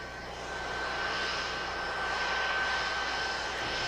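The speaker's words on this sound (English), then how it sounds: "Pilot Scott Horowitz arrived, flying the T-38" A T-38 jet trainer flies by, a steady, broad engine roar with a thin high whine that builds slightly and holds throughout, with no voices.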